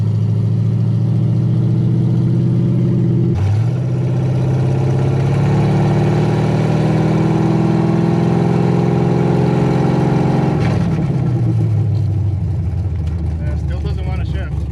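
A Camaro engine drones loudly on a test drive, its pitch climbing steadily through the middle and then dropping away, with a sharp shift in tone near the start and another near the end.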